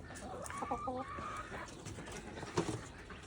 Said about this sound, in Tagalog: Dito tayo sa manukan ni Inday.